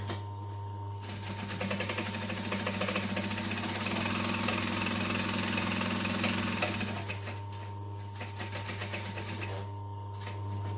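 A sewing machine runs a continuous stitching burst on a tote bag seam with an eighth-inch allowance, a steady motor whir with rapid needle rhythm lasting several seconds, then easing back to a low hum.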